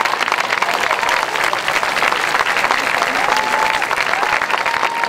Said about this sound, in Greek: Να τους καλωσορίσουμε με το πιο ζεστό μας χειροκρότημα